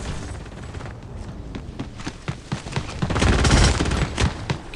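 Rapid bursts of automatic gunfire from several weapons in the Brazilian mobile battle royale game Prime Rush crackle in dense, overlapping volleys that swell louder toward the middle.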